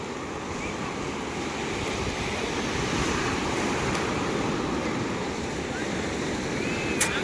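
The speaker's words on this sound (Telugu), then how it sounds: "ఆఫ్టర్ లాంగ్ టైం బీచ్కి వచ్చాను అనమాట పేరుపాలెం బీచ్" Surf at Perupalem beach rolls in as a steady, continuous roar of breaking waves mixed with wind buffeting the microphone, with no clear break in the wash.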